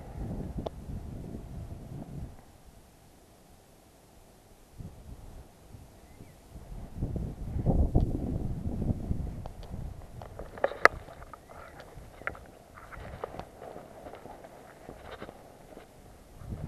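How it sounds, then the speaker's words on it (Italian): Wind gusts buffet the microphone at a hilltop fort at night, rumbling in uneven bursts that swell and fade, with faint rustling and a few light knocks. "C'è vento, oggi"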